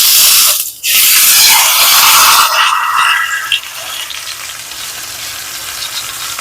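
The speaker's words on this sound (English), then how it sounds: "Now we're gonna get that beef and brown it on all the sides" Beef sears in a very hot skillet for a French onion pot roast, a loud, close sizzle that flares sharply, briefly cuts out, then settles into a softer, steady fry.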